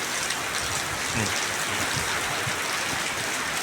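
Heavy rain pours down steadily at the turn from rainy to cool season, a dense, continuous hiss of drops with wind, loud and close, with no talk.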